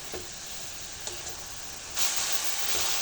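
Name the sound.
sesame seeds being mixed and stirred in a pan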